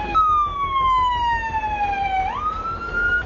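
An ambulance siren wails loud and close, a single long descending tone that sweeps sharply upward near the end over low road noise.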